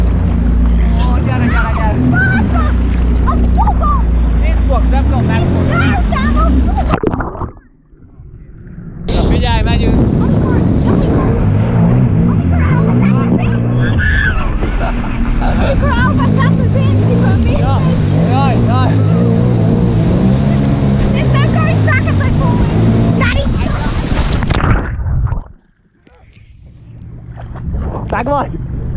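A jet ski engine running on open water, a loud continuous droning motor with wind buffeting, cutting out briefly twice before roaring back, with people talking and shouting over it.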